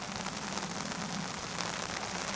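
Steady rain pours down outdoors on a mild day, a dense, even hiss of drops hitting surfaces that holds at constant loudness throughout, with no voices.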